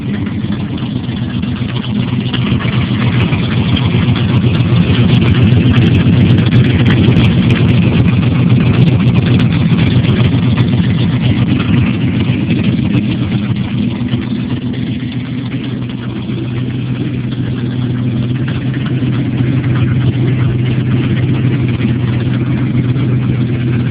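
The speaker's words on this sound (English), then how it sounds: "Let's see if we can get some good sound on this exhaust here." A 1971 Ford LTD Brougham with a custom-made exhaust idles steadily and loudly up close, a deep, even rumble with a faint lope that holds for the full twenty-odd seconds.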